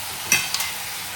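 Okra and green chillies fry in a pan under a steady sizzle, while a couple of quick scrapes of a stirring utensil cut through close up.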